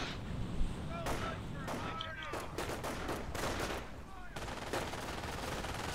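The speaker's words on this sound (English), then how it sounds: "nicely set up machine gun there by TerrorKnife." Bursts of machine gun fire from a war video game weapon, rapid repeated shots mixed with distant gunfire and explosions in a busy battle soundscape, with a voice talking over it.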